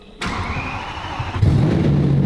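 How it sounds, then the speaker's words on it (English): Car engine cranking and then catching, a brief starter whir followed by the engine firing into a steady idle, close and loud, after the battery was swapped for a supercapacitor and the original wiring reconnected. "We're seeing if it will start now with it connected as OEM."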